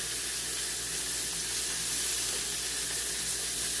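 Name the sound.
beef pot roast browning in a pan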